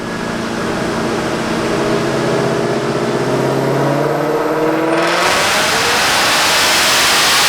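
A Whipple-supercharged 2024 Mustang GT with a 6-speed manual roars on a dyno, its loud engine note climbing steadily through the gears before breaking into a dense, blaring full-throttle howl with no talking.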